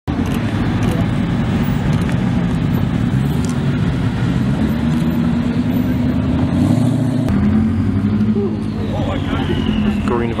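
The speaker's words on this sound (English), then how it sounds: "Green Viper going by." A loud Dodge Viper engine rumbles past with a rising, shifting tone, then fades, over steady traffic noise throughout.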